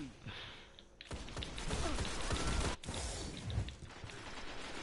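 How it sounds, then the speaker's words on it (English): A hand cannon fires repeatedly during an Iron Banner match in the video game Destiny, sounding as a rapid string of punchy shots over busy game noise after a quieter start. "I love the rate of fire on this hand cannon."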